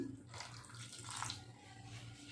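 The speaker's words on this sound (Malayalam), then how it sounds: "ഇതിലേക്ക് ഇത്തിരിയും പാടെ വെള്ളം ഒഴിക്കണം" Water pours steadily into a pan for making vermicelli payasam, with a soft, continuous splashing, fairly quiet and close, with no voices.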